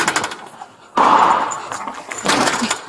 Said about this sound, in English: Shots fired from the inside.